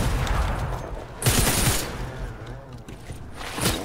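Gunfire in Fortnite during a sniper free-for-all match: a dense burst of rapid shots, loud and close, followed by scattered quieter shots and another burst at the end.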